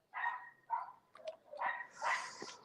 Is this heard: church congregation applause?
no